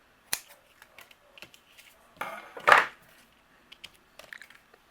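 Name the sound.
trimming white twine bow tails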